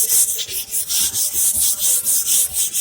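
An antique wooden box is sanded by hand in steady back-and-forth strokes, a close, loud, rhythmic hiss of abrasive on wood repeating about every quarter second.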